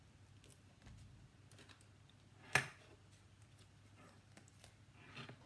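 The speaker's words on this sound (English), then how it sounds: "Oh, my scissors just fell off." Metal scissors drop off a crafting table onto a tiled floor, one sharp clattering hit in the middle of an otherwise quiet room with faint tapping around it.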